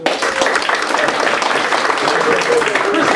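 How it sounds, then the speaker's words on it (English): A comedy club audience at a New York stand-up show bursts into sustained applause for a newly engaged couple, with crowd voices and cheering mixed into the clapping. "Clap it up for them."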